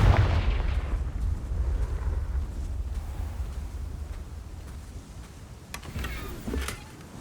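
Confringo fire-blast spell in the video game Hogwarts Legacy, a loud booming explosion followed by a long rumbling decay, with a few sharper cracks and impacts toward the end.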